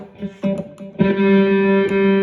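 Distorted electric guitar tone from a faulty distortion pedal that stutters and drops out in short bursts before holding a sustained, buzzing chord; close and fairly loud.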